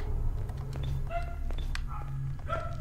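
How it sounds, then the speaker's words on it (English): Dogs in the Portal video game barking and yipping in several short bursts over a low steady hum, fairly faint and set back in the mix. "Dogs are barking."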